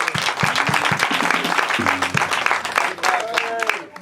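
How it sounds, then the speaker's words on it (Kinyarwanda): An audience at a children's talent roadshow claps loudly and continuously throughout, with a few voices and scattered tonal sounds riding over the applause. "Reka dukomere abayobozi ba Humura batwakiriye amashyi menshi."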